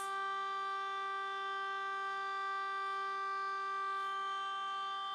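A civil defense siren sounds from a fire station directly across the street during its monthly first-Wednesday test, holding a steady, loud, sustained wail with many layered tones for several seconds, with no voices over it.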